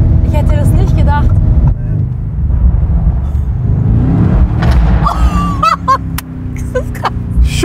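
An ABT-tuned 840 PS Lamborghini Urus roars and then lifts off the throttle around 3,500 to 4,000 rpm, its loud engine dropping away as voices speak over it from inside the car.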